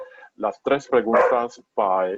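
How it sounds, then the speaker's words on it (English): A dog barks a few short times indoors, the barks mixed in with a man's continuous speech. "and that's my dog barking, by the way,"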